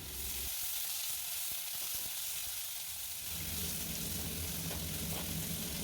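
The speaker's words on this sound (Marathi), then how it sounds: "कढीपत्ताही भाजल्यानंतर बारीक चिरलेला कांदा टाकून घ्यायचा आहे आणि तो व्यवस्थित परतून घ्यायचा" Finely chopped onion fries in hot oil with curry leaves for Kolhapuri misal, a dense, continuous close sizzle with a low crackle that grows fuller partway through, no speech.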